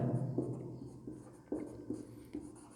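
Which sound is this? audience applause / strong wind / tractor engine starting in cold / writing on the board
writing on the board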